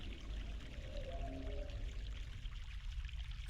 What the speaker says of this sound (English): Fresh mountain water.